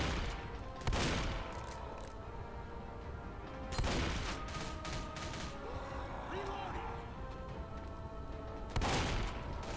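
Video game gunfire aimed at a tank bursts out in three loud volleys spread across the stretch, with background game noise between them.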